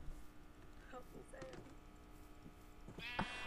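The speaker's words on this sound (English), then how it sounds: "Oh, it's the legendary red sheep." Sheep bleating in a video game, a short red sheep call rising near the end over a busy mix of game noise, with a person talking earlier in the clip.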